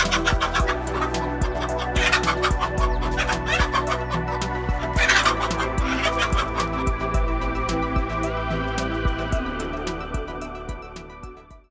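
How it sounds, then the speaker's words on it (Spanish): A mother hen chases off a snake with loud, agitated clucking and squawking that repeats in rapid bursts, dense and close, with constant rhythmic calls running throughout. "Con toda su valentía, mamá gallina logra espantar a este mortal visitante."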